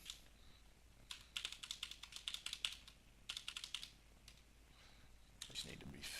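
Bursts of rapid keystrokes on a computer keyboard as dummy credit card details are entered, clicking in clusters with short pauses, close and fairly quiet, with some talk.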